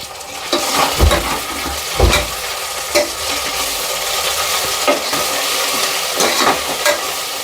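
Onions fry with ginger garlic paste in a pan, a steady close sizzle broken by regular thumps and scrapes of a spoon stirring about once a second.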